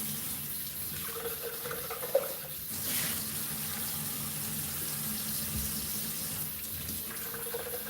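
Kitchen tap running steadily for rinsing, a continuous splashing hiss of water into the sink with a small clunk early on and a brief change in flow near the end.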